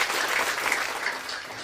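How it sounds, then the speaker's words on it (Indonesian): Church congregation applause during a sermon, a brief, dense burst of many hands clapping together, fairly distant and even. "Tepuk tangan yang meriah buat Tuhan."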